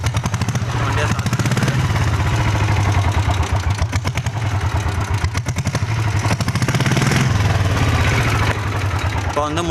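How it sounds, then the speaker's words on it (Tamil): A diesel Bullet motorcycle engine runs with its silencer removed, a loud, close, rapid chugging clatter that keeps a steady rhythm from start to finish. "இப்போ வண்டியை ஸ்டார்ட் பண்ணிக்கலாம். ஸ்டார்ட் பண்ணிட்டு எவ்வளோ சவுண்ட் வருதுன்னு பார்க்கலாம்."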